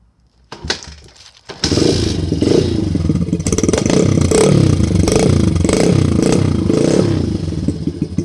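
A loud motorcycle engine sputters with a few clatters, then catches and starts, settling into a rough, loud idle with repeated revs close by.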